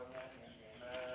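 Frightened goats bleat faintly in a short burst, wavering calls at low volume, with a second cry rising near the end.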